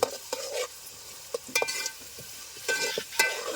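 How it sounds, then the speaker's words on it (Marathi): Chicken tandoori biryani masala is stirred in a pan over a wood stove: moist scraping strokes and clinks of the spoon over a soft sizzle, close and fairly loud. "मिक्स झालेली ती टाकायची आता मस्तपैकी घाटलून घ्यायचा म्हणजे करपाला नको त्याच्यासाठी घाटलून घ्यायचा"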